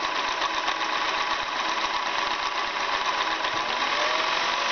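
A Singer 401 sewing machine stitching felt at high speed, a continuous fast whirring motor hum with rapid needle chatter, close and steady throughout.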